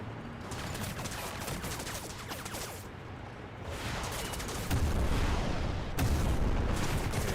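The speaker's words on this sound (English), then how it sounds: "Explosions seem to be okay." Explosions and gunfire-like blasts in the PC game Crysis Remastered, a dense, continuous barrage of booms and crackling fire that swells louder toward the end, with sharp bursts near the last seconds.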